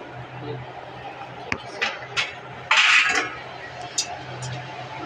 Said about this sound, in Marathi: आता ह्याच्यावर आपण झाकून ठेवूया.